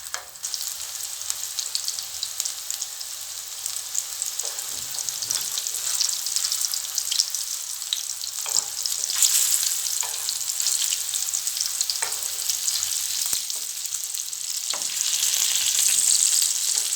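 Meatballs dusted with flour fry in a pan over medium heat, giving a dense, even sizzle that swells slightly near the end, with a few soft clicks and knocks and no talk.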